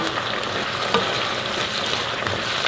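Zucchini and other vegetables stir-frying in a pan, a steady close sizzle with faint stirring clicks throughout, no voices.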